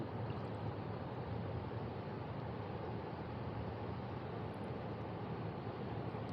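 Steady broadband rushing of choppy sea water washing against a small boat, continuous and fairly loud, with an engine-like drone underneath and no talking.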